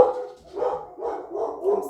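A dog barks in a quick run of three or four muffled, close barks, one after another with little pause.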